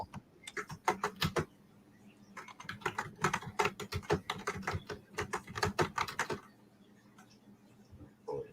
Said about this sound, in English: You're hammering away at that keyboard, aren't you?